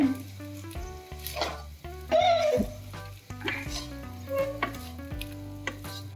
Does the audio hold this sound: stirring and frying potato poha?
yes